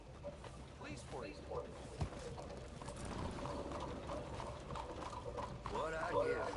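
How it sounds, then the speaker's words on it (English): Hooves clip-clop faintly in the Western game Red Dead Redemption 2, a loose, uneven trot under quiet background noise with a soft mechanical rattle, while a voice speaks briefly toward the end. "What I give for a horse as fine as that."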